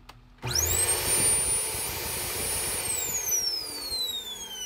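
Shark NV500 vacuum cleaner, just after a brush roll repair, switching on abruptly with a rising whine that settles into a loud steady motor roar, the pitch drifting down near the end; no talking.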